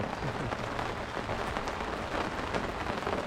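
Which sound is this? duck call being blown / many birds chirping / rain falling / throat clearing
rain falling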